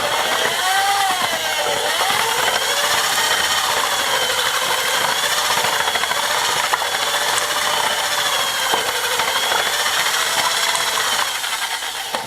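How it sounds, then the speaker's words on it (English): A drill with a whisk attachment churns a bucket of lime wash, giving a loud, continuous whirring and sloshing drone with slight wavering pitch that runs without pause. "Just use a little whisker on a drill."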